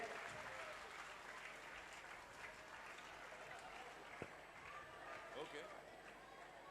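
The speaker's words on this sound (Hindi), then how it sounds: "एक बार जोरदार तालियों के साथ में।" Audience applause during a Jain cultural quiz programme as a silver prize winner is called up, a steady wash of clapping at moderate distance with a voice talking over it.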